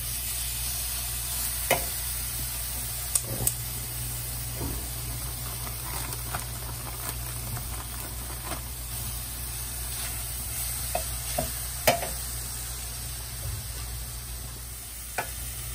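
Homemade spicy chorizo cooks in a dry frying pan with no oil added, giving a steady, close sizzle with scattered small pops and occasional stirring scrapes and no talk.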